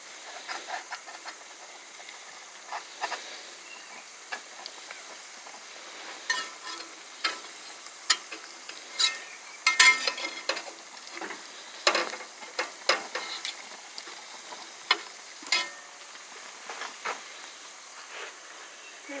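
Quail eggs frying over easy in a pan, a steady soft sizzle with scattered sharp pops and crackles, close by and with no voices.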